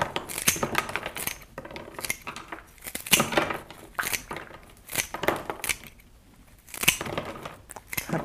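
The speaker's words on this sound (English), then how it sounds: "Now I just need to cut my stems down so that they'll fit into my vase" Scissors cut flower stems down for a hand-tied green floral bouquet, a series of close, crisp snips and crunches in irregular bursts with brief pauses between.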